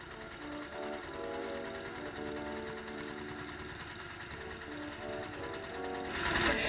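A sewing machine does free-motion stitching with black thread along a black outline on a Nutcracker Christmas quilt, a continuous rapid mechanical whir with an even stitch rhythm. A louder burst comes at the very end.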